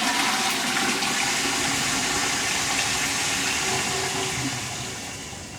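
A toilet flushing: a loud, continuous rush of water pouring through the bowl for several seconds, steady and close, beginning to ease off toward the end.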